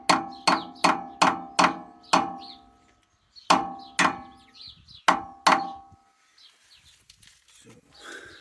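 Steel removal tool hammered into a stuck screw on a 1962 Fordson Dexta tractor's fuel system: sharp, ringing metallic blows, five quick in a row, then a pause and four more, followed by quieter clinking.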